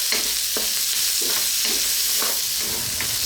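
Garlic and onion sauté in a pan for pork fried rice, a steady loud sizzle punctuated by regular scraping stirs of a utensil against the pan, close and without talk.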